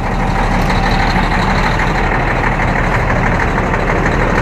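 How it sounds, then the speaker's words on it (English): A semi truck's diesel engine idles steadily as it warms up after starting, a loud, continuous low rumble with no breaks and no talking. "we will let her idle for a good while"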